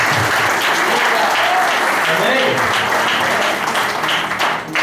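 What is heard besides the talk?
church congregation applauding to welcome Pastor Ailson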